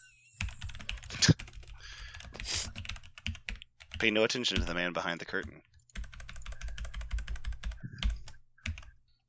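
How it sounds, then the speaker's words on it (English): Fingers clatter on a mechanical keyboard in quick, crisp bursts of clicky keystrokes, close and fairly quiet, pausing while someone speaks partway through before the typing resumes. "I have a mechanical keyboard and they can actually hear me doing"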